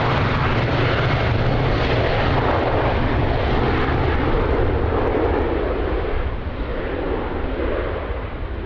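A jet airliner takes off from runway 02 at Lisbon Airport in windy weather, its engines a loud, sustained roar that begins to fade slightly toward the end.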